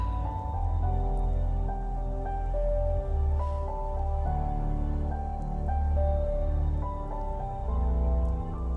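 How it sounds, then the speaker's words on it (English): Steady rain falling as a sound effect within a song, a continuous wash blended under piano and musical tones throughout. "It's rain."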